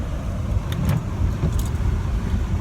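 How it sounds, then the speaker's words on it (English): A car driving at night, heard from inside the cabin, with a steady broadband road and engine rumble throughout and a few faint brief clicks and rattles over it; no one speaks. "we're driving. We're in a car."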